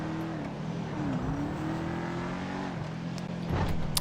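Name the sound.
fast car engine in video game GTA 5 Online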